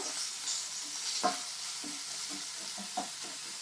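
Onions frying and being stirred in a pan, a steady broadband sizzle with a few soft scraping stirs, close and moderately loud, no voices.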